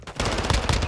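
Loud rapid gunfire in a Call of Duty Modern Warfare 2 ranked multiplayer match, a short close burst of repeated shots lasting under a second.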